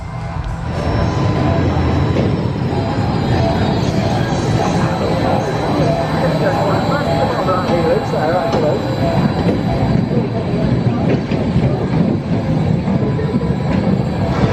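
A steady loud rumble of the Energy Recovery System roller coaster train running along track at an indoor theme park in Camden, London, heard from the front row, with rattling and clacking throughout and wind noise, continuous for the whole ride segment.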